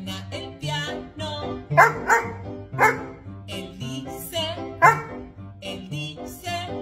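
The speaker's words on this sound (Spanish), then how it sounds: "Existe un perrito que ladra en mi barrio cuando suena el piano." A small dog barks in a series of sharp, yappy barks mixed with pitched tones that could be a piano. The barks come in irregular bursts, fairly close and clear.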